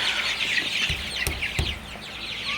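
Sonali super hybrid chickens in a shed during hot, humid weather keep up a steady, close chorus of clucking and chirping, with a couple of sharp clicks and a low background hum.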